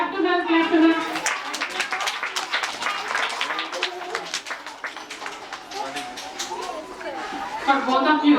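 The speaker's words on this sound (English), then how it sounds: "Clap to them, clap to them." Children clap together in a quick burst of claps lasting several seconds, with voices speaking before and after.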